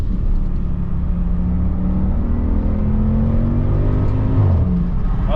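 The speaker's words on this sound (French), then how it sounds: "on dirait une Audi R8, mais en berline" A powerful V10 engine in an Audi RS6 sedan drones and revs steadily up and down, loud and close, a continuous mechanical roar with no voices.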